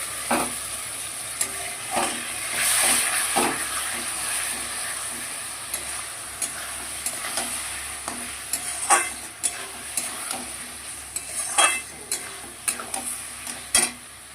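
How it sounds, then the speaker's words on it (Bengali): Spices frying in a pan for fish curry, with a little spiced water added now and then, a soft steady sizzle broken by sharp clicks and taps of a utensil against the pan, growing busier toward the end. "এটার মধ্যে এবার অল্প অল্প মশলা দেওয়া জলটা দিয়ে দিয়ে কষাবো"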